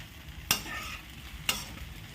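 A spoon stirs sabudana khichdi with peanuts in a pan. Two distinct scraping strokes come about a second apart over a faint background sizzle, close and quiet, with no talking.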